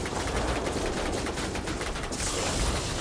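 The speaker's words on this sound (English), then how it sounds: "it's the tail gun of the IL-2" Tail gun of an IL-2 firing in World of Warplanes, a rapid machine-gun rattle sustained for a few seconds amid dense engine and battle noise, fairly faint.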